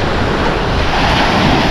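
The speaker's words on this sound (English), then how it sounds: "Look at the water, the waves, the sand." Ocean waves break and wash up on the beach at Placencia, a steady, close roar of surf with wind buffeting the microphone throughout, no voices.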